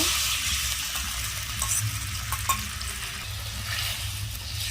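A mixture of tomato sauce, chili powder and a little water sizzles and bubbles in a wok, a dense, continuous crackling hiss heard up close with faint clinks.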